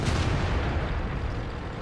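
A Centurion 7/1 tank gun fires in a video game, one loud booming blast that opens the moment and decays into a rumbling tail.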